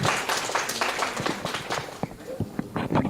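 Conference audience applauding, a dense burst of clapping that thins into scattered individual claps toward the end.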